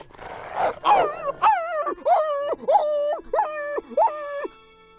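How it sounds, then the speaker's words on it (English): Dogs in an audiobook sound effect of a pack attacking, starting with a growling snarl and then a rapid series of about six loud, wailing howl-like yelps in close succession. "a pack of town dogs foolishly decided to attack him"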